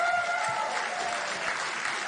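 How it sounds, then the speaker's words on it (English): A live show audience applauds in a fairly soft, steady wash of clapping that lasts about two seconds without any talking. "Applaud if you're 50 and older."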